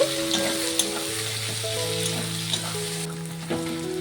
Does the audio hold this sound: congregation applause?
no